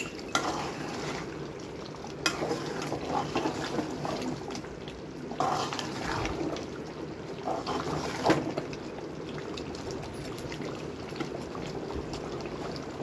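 Mutton simmers down in a pan with ground garam masala and little gravy left, giving a low, quiet bubbling sizzle broken by scraping stirs at irregular intervals.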